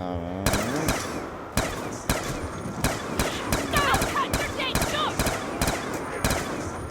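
Gunfire against zombies in the Buried map of Black Ops 2, a steady run of sharp, loud shots spaced about half a second apart, with a voice talking faintly underneath.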